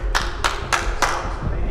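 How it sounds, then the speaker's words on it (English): A single person claps hands four times at a steady rhythm over a constant background hum in a live esports broadcast setting, close and fairly sharp. "We got clapping"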